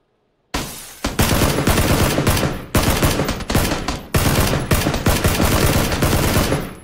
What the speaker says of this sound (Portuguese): Hoje eu vou atirar nele, mano.